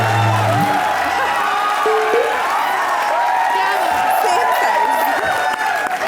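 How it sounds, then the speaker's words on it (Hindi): A television comedy studio audience cheers and claps for Tahir, a steady crowd roar under loud background music with voices cutting in over it. "ताहिर के लिए जोरदार तालियां।"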